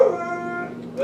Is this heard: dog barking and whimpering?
yes